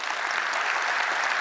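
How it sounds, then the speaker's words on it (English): A crowd applauds at a developer keynote, with broad, steady clapping from a large audience filling the short stretch without a break. "Let's give a huge round of applause"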